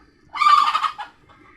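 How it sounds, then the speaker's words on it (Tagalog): A single loud, squawking chicken cry as the chicken flies up, rising and breaking off, close and alone, with a short trailing call after. "lumipad yung manok"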